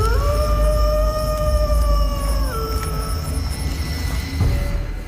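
Long, rising and falling howls of wild dogs or wolves carry over a rumbling night forest background, several voices overlapping and sliding in pitch before fading out.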